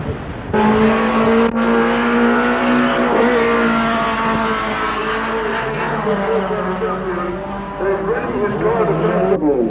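Rally car engine on a sandy beach at a sprint event, revving hard and loud with shifting pitch, a missed gear, throughout, with a commentator's voice talking over it.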